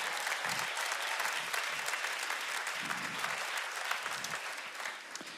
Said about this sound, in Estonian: Olge head, rahvas, teeme ühe julgustava aplausi.